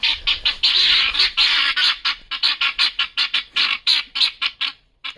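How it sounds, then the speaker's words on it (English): A flock of guinea fowl calls close by, loud and raucous, with rapid, rhythmic, grating cackles that overlap and pulse on and off without pause. "And this is what I love about the guineas. This noise that they make"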